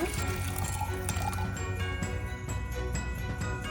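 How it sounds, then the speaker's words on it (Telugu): Filtered jaggery water is poured into a vessel, a soft close splashing and trickling of liquid over a low background hum, with brief clinks near the end. "ఇప్పుడు ఇక్కడ మళ్ళీ మనం ఫిల్టర్ చేసుకున్న జాగ్రీ వాటర్ని ఇందులోకి యాడ్ చేసుకున్నాము"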